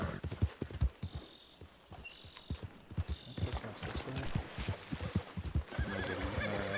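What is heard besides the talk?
horse hooves and neigh in video game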